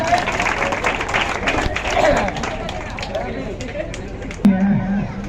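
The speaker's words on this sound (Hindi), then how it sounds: "एक बार ताली हो जाए।" An audience at a quiz competition for Saraswati Puja claps in brief bursts amid crowd chatter, with voices talking over and between the applause.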